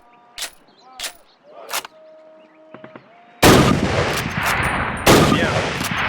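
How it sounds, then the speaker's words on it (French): Rifle shots ring out at a target in a Call of Duty training range, several sharp loud bangs, with a few faint clicks between them, then heavier sustained gunfire and rumble near the end. "Maintenant, tirez 2 fois sur votre cible avec le viseur."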